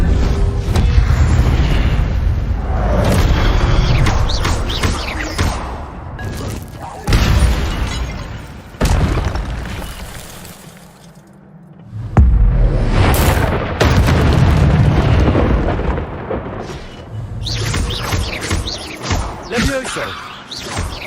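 Incendio fire spell blasts in the Hogwarts Legacy video game, a string of loud booming bursts and crackling impacts in dense waves with a short quieter gap midway, and a voice heard in places.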